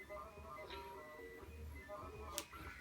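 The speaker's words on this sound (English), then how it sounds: "Here is our 3D printer printing another gear." A 3D printer prints a gear, giving off a faint, steady mechanical whir with soft stepper-motor tones and a brief higher click near the end, heard quietly without talk.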